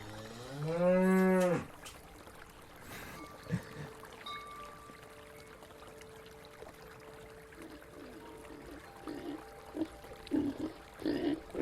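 A single cow moo, loud and drawn out for about a second, followed by quiet ambient noise with faint scattered knocks and clicks.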